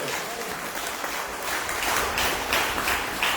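A church congregation applauds, a dense wash of many hands clapping steadily for a few seconds, with a voice faintly audible beneath.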